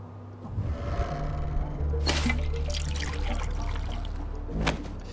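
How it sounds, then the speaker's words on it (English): Water pouring and trickling at a desert oasis in Wasteland 2, a steady liquid flow with low ambient hum, with a couple of brief splashy bursts near the middle and end. "Fill up your water."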